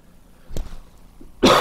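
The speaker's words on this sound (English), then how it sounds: "I apologize to you too, Eric, that I'm coughing in your ear here" A person coughs twice, a soft short cough followed by a louder, harsher burst, close to the microphone during a miniature painting tutorial.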